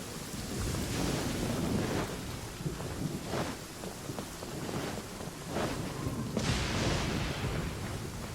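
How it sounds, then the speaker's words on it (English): Steady rain pours in a Genshin Impact game scene, a dense continuous hiss with low rumbling swells and a few brighter gusts, loud and enveloping throughout with no talk. "Oh, it's raining."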